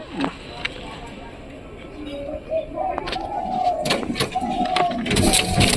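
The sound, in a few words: pigeon cooing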